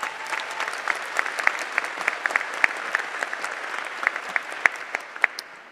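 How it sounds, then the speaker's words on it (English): A graduation audience claps and cheers in a steady burst of applause, with scattered sharp individual claps standing out across the crowd throughout. "Give yourselves a big round of applause."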